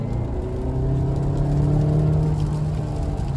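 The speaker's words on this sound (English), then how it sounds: "From just a rolling, 20 miles an hour, it accelerates very fast for it to be an SUV, especially a family SUV." A 2022 Kia Sorento X-Line AWD family SUV accelerating hard from a rolling 20 mph, heard as a steady, loud engine drone with a rising whir of revs and road rumble, and no talking.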